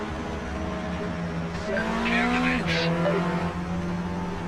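Mazda MX-5 race cars in Project Motor Racing whine along under engine drone with a brief tire squeal, the tone rising and shifting as they run close together at a steady, moderate level.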